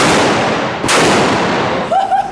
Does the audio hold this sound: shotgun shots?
yes